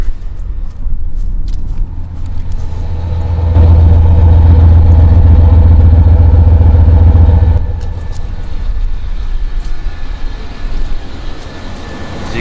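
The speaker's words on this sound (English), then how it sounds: "So you can hear the engine." A 1995 Chevy K1500 Z71 pickup engine with 228,000 miles runs steadily nearby, a low rumbling drone that swells into a louder rev through the middle before settling back to idle.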